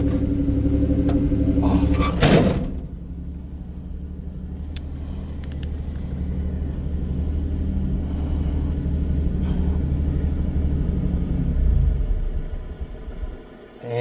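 A Turbo Buick engine held on the gas with a rough, reluctant idle, a steady low rumble that swells near the end then dies away, preceded by a sharp clunk, no talk.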